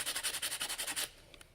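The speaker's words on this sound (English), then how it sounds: "Or if it's super shallow like this, I'll just clean it up on a piece of sandpaper" Sandpaper scrubbed by hand to clean shallow rust off a knife part, about ten quick rhythmic rasping strokes, close up, then stopping into near silence with a couple of faint clicks.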